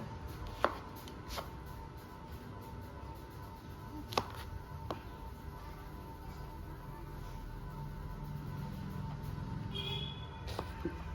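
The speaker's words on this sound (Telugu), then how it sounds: "ముక్కలు గట్టిగా దుడుచుకున్న తర్వాత ముక్కలు ఇట్లా కొట్టుకుంటే" Raw mango being chopped into small pieces for pickle, with a handful of sharp, isolated knife strikes spaced irregularly over a steady low background hum.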